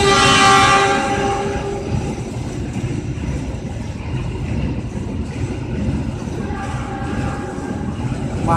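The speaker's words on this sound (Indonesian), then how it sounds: "Nah, lagi kereta lewat nih." A train rumbles past close by at the former Kradenan station in Indonesia, a horn sounding at the start, with continuous rolling rail noise and clatter that lingers as the cars go by.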